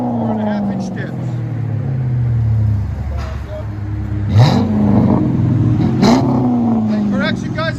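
A 2007 Chrysler 300C with the 5.7L HEMI V8 and Carven TR dual exhaust with rear delete and 4.5-inch tips rumbles at idle, then revs twice in rising sweeps, loud and close, with talking over it.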